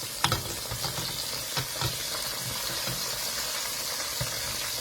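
Large pieces of catfish fry in hot oil in a pan, giving a steady close sizzle with occasional louder pops and crackles and no talking.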